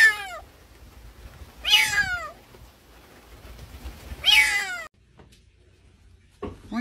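A cat meows three times, loud and close, each a rising-then-falling cry with steady pauses between, followed by a short faint sound near the end.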